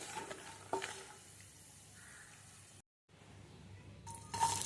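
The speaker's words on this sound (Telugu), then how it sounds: "మంటని మీడియం ఫ్లేమ్లో పెట్టుకొని ఎర్రగా వేయించుకోవాలండి పల్లీలు." Peanuts roasting in a pan over medium flame, a soft sizzle with scattered rattling stirs, briefly cutting out to silence before resuming.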